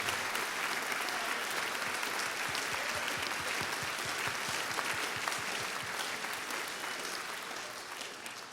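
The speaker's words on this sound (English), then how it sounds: "can we also have a round of applause for the parents of the seniors" A school spring band concert audience applauds the seniors' parents with steady, dense clapping that fills the room for several seconds and tapers slightly at the end, no voices standing out.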